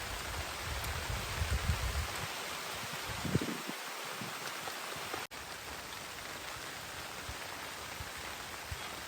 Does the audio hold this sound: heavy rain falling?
yes